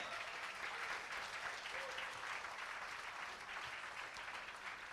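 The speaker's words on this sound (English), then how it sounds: "Let's give him a big round of applause yet again." Steady, even applause from an audience at a formal school or science ceremony, a continuous wash of many hands clapping at fairly low level without pause.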